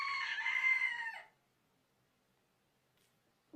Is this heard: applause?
no